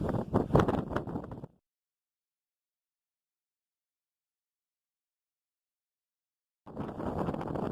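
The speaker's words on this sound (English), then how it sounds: "I'm high up and it's windy, so I want to go down now." Strong wind gusts blast the microphone on a mountain summit, loud rumbling bursts at the start and end separated by a long stretch of silence.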